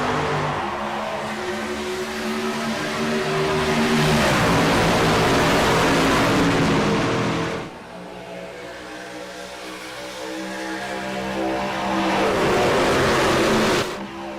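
Racing trucks in a video game surge away at a Talladega Superspeedway restart, with a loud, dense engine roar building and shifting as they run through the gears, dropping briefly before swelling again.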